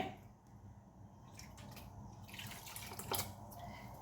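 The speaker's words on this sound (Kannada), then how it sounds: "ಸ್ವಲ್ಪ ನೀರು ಹಾಕ್ತೇನೆ" Water trickling and splashing softly into a small container of yeast, a quiet, steady pour with faint drips.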